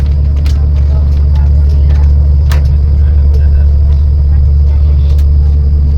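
A bus drives along a road at Dhaka airport, its steady engine rumble and road noise loud and constant throughout, with faint clicks and rattles over the top and a hint of voices in the background.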